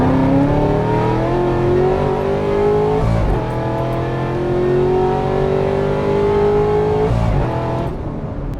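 A Chevrolet Camaro ZL1 fitted with headers and a Corsa exhaust revs hard and loud up close, its engine note climbing in two long sweeping pulls with a brief drop between them, no voices over it.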